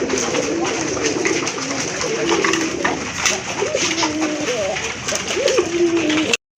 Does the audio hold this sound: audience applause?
no